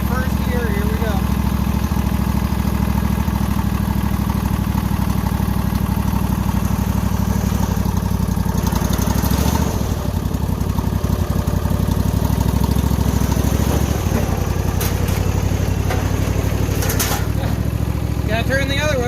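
A very old tractor fitted with a power washer motor chugs along in first gear, its engine droning loud and steady throughout, with voices talking over it.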